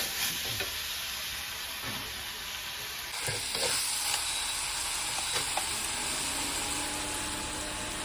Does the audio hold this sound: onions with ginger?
yes